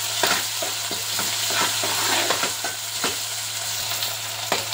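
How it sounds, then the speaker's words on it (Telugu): Ginger garlic paste frying in a pan with turmeric for Telangana-style mutton keema curry, a loud steady sizzle broken by repeated crackles and spoon scrapes over a constant low hum. "సో ఇది అల్లం వెల్లుల్లి పేస్ట్ ఫ్రై అయిందండి"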